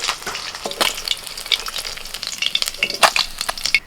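Rohu fish pieces crackle and sizzle in hot oil, close and fairly loud, with irregular sharp pops and spatters over a continuous frying hiss.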